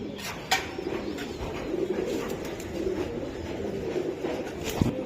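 Racing Giribaz pigeons coo in a low, continuous murmur close by, with a couple of brief sharp knocks and faint background noise.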